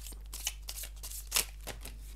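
Tarot cards are being shuffled by hand, giving soft, close papery riffles and slaps in a quick irregular rhythm over a low steady hum.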